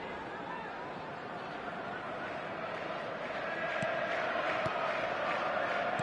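Virtual stadium crowd in a PS4 football game roars in a steady, dense wash of cheering and chatter that swells slightly louder toward the end, with a few sharp thuds breaking through.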